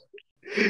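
A single sneeze: a brief indrawn gasp, then a sudden loud, breathy burst at close range.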